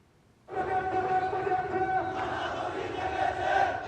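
A protest rally crowd fills the streets of Dhaka, a dense, continuous roar of many voices with shouting that rises sharply and holds steady at close range.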